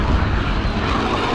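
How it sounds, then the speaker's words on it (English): An incoming enemy cruise missile in Call of Duty: Modern Warfare gives a loud, steady, rushing roar like a jet engine close overhead, with no talk over it. "Enemy cruise missile, take cover."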